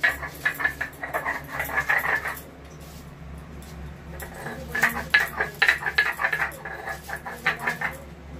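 Tulsi leaves, neem leaves and turmeric powder are ground together by hand, making close, rhythmic scraping strokes in two runs separated by a quieter pause.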